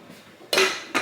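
A metal pot lid being searched out and handled among pans on a kitchen stove, a soft shuffle followed by two bright clanks of metal on metal.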